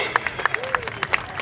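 Spectators at an outdoor wrestling ground clap for two wrestlers. The claps are uneven and scattered, with crowd murmur and voices mixed in around them.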